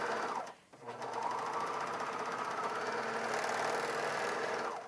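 A Bernina 700D serger runs continuously while sewing a curve in fabric, a steady close mechanical whir with a brief dip near the start as the stitching pauses, then a long unbroken hum of needles and knife with no talking.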